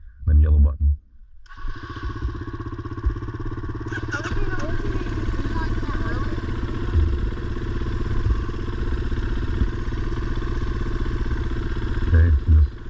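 A dirt bike engine starts after a few loud thumps and settles into a steady, close rumbling run with a rattling clatter, while a person talks over it at times.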